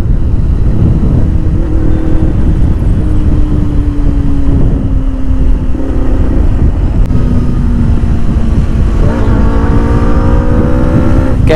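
A Benelli 600i superbike engine drones loud and close while riding, with a steady throbbing note whose pitch slowly falls and then rises again as the bike accelerates near the end.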